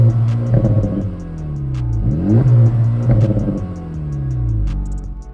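A new Acura Integra Type S starts up and its exhaust revs several times in close succession. Each rising and falling engine note is loud and near, and nobody speaks.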